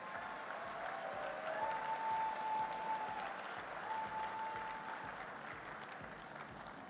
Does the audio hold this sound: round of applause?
yes